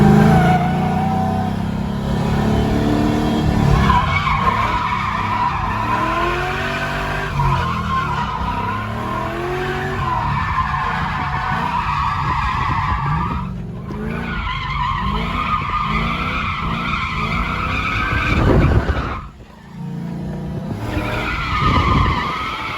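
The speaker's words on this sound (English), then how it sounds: "I take my GTO to Apple Valley Speedway and drift it for the first time." A GTO drifting at Apple Valley Speedway, with continuous loud tire skidding and engine revving that rise and fall, broken by a short dip before the screeching resumes; no talking.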